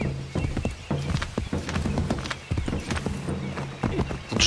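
Horse hooves clip-clop at a walk in Assassin's Creed 3, a steady run of close, loud thudding steps, with brief talk and game sound in the background.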